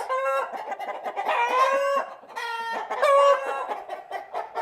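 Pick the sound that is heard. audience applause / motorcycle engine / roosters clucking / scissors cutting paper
roosters clucking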